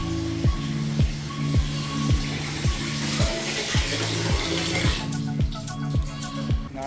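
Water pours from an opened tap on board the passenger ship M.V. Kavaratti at sea, a steady splashing flow under a rhythmic, repeating mechanical thump from the ship.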